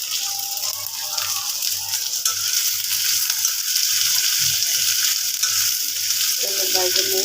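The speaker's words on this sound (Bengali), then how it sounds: "তেলে ভেজে নিই।" Onions and green chilies fry in hot oil for a Bengali scrambled-egg dish, giving a steady, loud sizzle throughout with occasional stirring clatter and a brief spoon or pan knock near the end.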